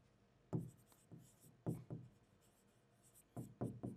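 A pen writing a crossed cheque entry in an accounting ledger, heard as a few soft scratchy strokes in separate bursts with quiet pauses between, close and fairly faint, with no talking.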